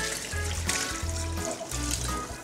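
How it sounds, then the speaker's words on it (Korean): Pickling liquid poured over perilla leaves layered with red chili peppers for a soy-pickled side dish, a steady close trickle and splash running for a couple of seconds with no talk over it. "자, 그리고 만든 작물을 부어주세요."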